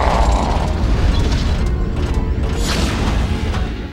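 Shock grenades in the video game Red Faction 2 explode in a dense, loud run of booming blasts and crashing rumble that fills all four seconds with no pause.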